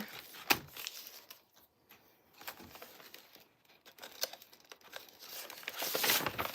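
Paper die-cut trimmings from an Anna Griffin cut die and emboss folder set being handled up close, with repeated crinkling, rustling and crackling bursts that grow busier toward the end, with no talking.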